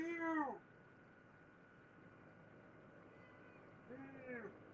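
A pet cat meows for attention, one clear meow at the start and another rising call near the end, close by in a quiet room.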